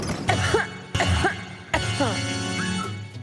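Three separate coughs in a cough medicine commercial, each a short harsh burst followed by a pause, loud and close with no talking between them.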